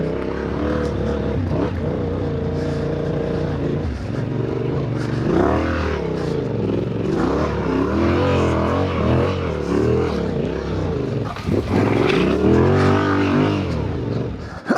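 Off-road motorcycle engine pulling steadily in third gear on rough adventure tracks at the Red Bull Romaniacs hard enduro event, a loud continuous drone with shifting pitch as the revs rise and fall.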